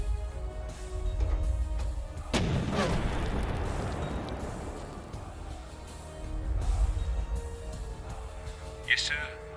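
A tank gun fires once in a WWII tactical strategy video game, a loud sudden boom that rolls into a long rumbling decay, with further low rumbles and a faint metallic clink afterward.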